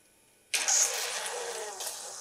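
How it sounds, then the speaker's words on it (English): A water pump switches on abruptly and pumps water out of a flooded building area, a loud steady rushing, gurgling flow that holds near and constant after the sudden start. "It's now pumping the water out."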